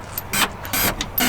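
A power driver backs out T30 Torx screws around the tailgate inner panel of a Toyota Tacoma, its motor whirring in several short, close bursts separated by brief pauses.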